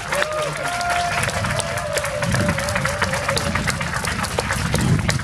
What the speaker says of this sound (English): Would you please give a big round of applause for Vicki?